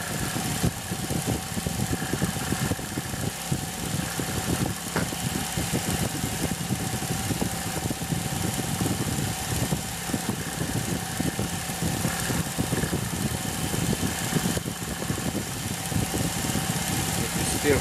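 Motor spinning an elastic shaft at 2000 RPM, a steady humming drone with a rough vibrating buzz, continuous and even in level throughout.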